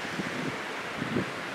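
Wind blows outdoors at a backpacking campsite, a steady low rumbling gust noise with soft rustling throughout.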